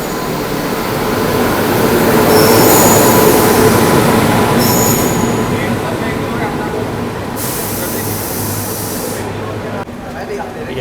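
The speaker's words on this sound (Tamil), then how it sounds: "எர்ணாகுளம் இன்டர்சிட்டியும் கிளம்பிருச்சு" The Ernakulam Intercity train departs a station on the Rajapalayam to Bengaluru route with a loud, steady rumble of rolling rail cars and intermittent wheel squeal, close by.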